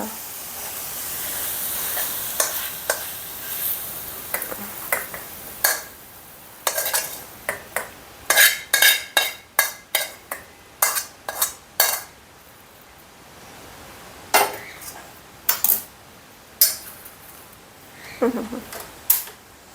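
Cooked sendwal flower vegetable being scooped out of a pan, heard as a run of sharp metallic scrapes and clinks of a spoon against the pan, sparse at first and then coming in quick clusters, close and fairly loud, with no talking.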